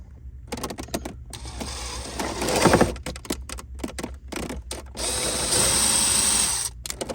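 Drilling holes in a custom switch panel with a larger bit after the pilot holes, heard as close, uneven bursts of grinding and rattling with short pauses between passes.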